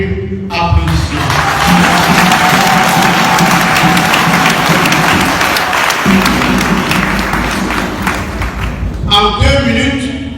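Crowd applause at a political rally in Côte d'Ivoire, a loud sustained wash of clapping and cheering with voices over it, fading as speech returns near the end.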